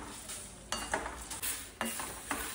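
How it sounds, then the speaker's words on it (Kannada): Toor dal and dried red chillies dry-roast in a pan, stirred with a utensil that scrapes and rattles the dry grains against the metal in steady, close strokes. "ಅದ್ರ ಜೊತೆಗೆ ಈಗ ಒಣಮೆಣಸಿನಕಾಯಿನೂ ಕೂಡ ಹಾಕ್ಬಿಟ್ಟು ಹುರಿತಾ ಇದ್ದೀನಿ."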